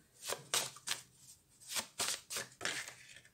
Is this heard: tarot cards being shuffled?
yes